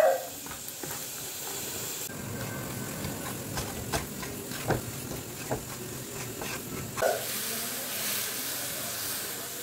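Dry fruits fry in a hot pan at a home stove, giving a steady broadband hiss and sizzle with a few soft clinks and scrapes throughout, and no talking.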